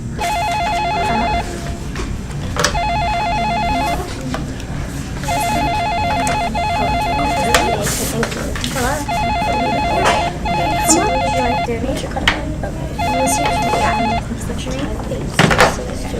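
Telephones ringing at a telethon phone bank staffed by teens, a repeating electronic ring cycling in bursts of about a second and a half amid busy room chatter, with people talking throughout.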